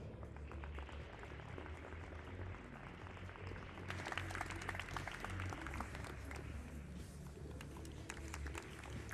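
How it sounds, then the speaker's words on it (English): Spectators at a para shooting final in the men's 10m air pistol SH1 event applaud, a moderate, fairly distant patter of clapping that swells briefly partway through before continuing at a lower level. "please, a big round of applause for Turkey's Murat Ugoj"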